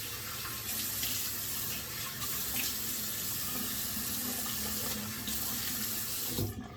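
Tap water runs steadily into a bathroom sink for face washing before shaving, a constant close splashing hiss that cuts off at the very end, with no talking.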